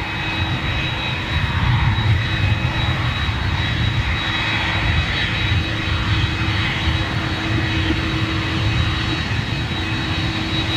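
Jet airliner with CF6 or RB211 turbofan engines at London Gatwick, a loud continuous roar with a steady whine on top, close and unbroken throughout.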